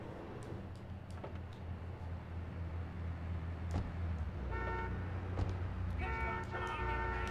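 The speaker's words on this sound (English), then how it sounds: "I hear like six cars." Car horns toot amid low traffic rumble in GTA III on PS4, with a couple of sustained honks toward the end over a steady engine drone.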